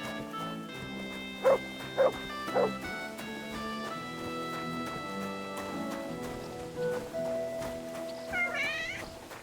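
Several short dog barks and yips from a video game, Kingdom Come: Deliverance II, rising over a steady bed of medieval-style instrumental music, with a brief animal cry near the end.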